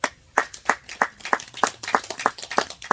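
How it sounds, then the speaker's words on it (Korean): A small audience claps along in a steady, even rhythm, about nine crisp claps spaced roughly a third of a second apart, close and clear with no talk over it, at a farming lecture on Shine Muscat grapes. "박수 한번 치십시오."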